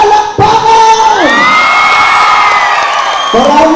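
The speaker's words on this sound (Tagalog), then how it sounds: "nais ko mong marinig ang inyong sigawan at palakpakan!" A political rally crowd at a campaign's final night roars with loud shouting, whooping and cheering, a sustained, dense wall of voices close and overwhelming, with a shrill rising yell in the middle.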